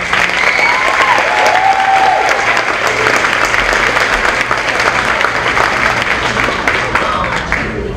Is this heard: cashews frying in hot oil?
no